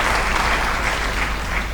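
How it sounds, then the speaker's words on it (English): Audience applause for the President of Uganda at the launch of the Kampala Marriott Hotel, a dense, steady burst of clapping from a large crowd filling the whole short moment. "let's be upstanding to give a round of applause to His Excellency, the President"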